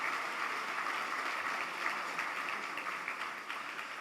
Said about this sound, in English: Let's give Amica and its directors a round of applause for their support.